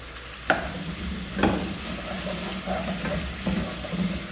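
Onion and garlic frying in a pan for homemade chicken soup, with a steady low sizzle broken by a few sharp stirring clacks at the start.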